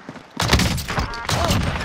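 Explosive shotgun blasts from the Warzone video game, a quick burst of heavy booming shots followed by a second barrage, loud and close.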